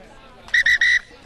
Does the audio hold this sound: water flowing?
no